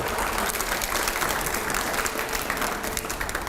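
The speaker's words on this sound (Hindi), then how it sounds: "अगला सवाल से पहले जोरदार तालियां हो, प्ले करिए।" Loud recorded applause plays in a TV news studio during a debate, a dense, continuous wash of clapping at full volume with no talk over it.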